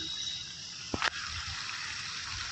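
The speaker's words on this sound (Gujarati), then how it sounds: "જુઓ અત્યારે કેવો સરસ મજાના ફુવારા છે" Garden water fountains run in a sunny park, giving a steady, even wash of splashing water that holds through the whole stretch, with a brief knock or clink near the middle.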